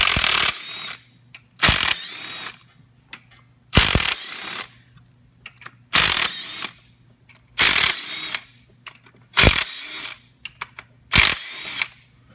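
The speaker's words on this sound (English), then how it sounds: "go ahead and remove our 13mm bolts for the injector rails. We're just going to loosen them all up." A ratchet loosening 13mm injector rail bolts on a 2014-2019 Silverado engine, heard as seven evenly spaced bursts of rapid, close, loud clicking separated by short quiet gaps.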